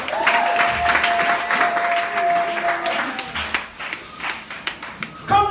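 A church congregation at a Friday night vigil claps and applauds together for a few seconds, a dense close patter of hands over a sustained voice or tone.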